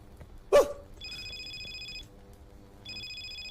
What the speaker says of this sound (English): His fucking phone. Fucking cell phone.